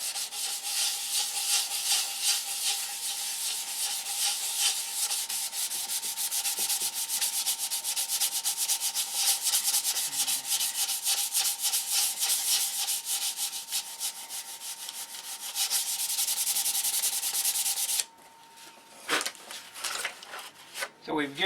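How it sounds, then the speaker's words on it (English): Molded balsa wood being sanded with 320-grit sandpaper: a continuous close scratchy rasp of fast back-and-forth strokes for about eighteen seconds, then it stops and leaves scattered light handling taps. "Sand out on all the scratch marks you just put in from the 80 grit"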